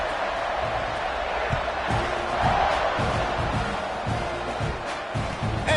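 A football stadium crowd as the teams set up for a kickoff, a steady loud roar of cheering and shouting that swells slightly midway and holds throughout.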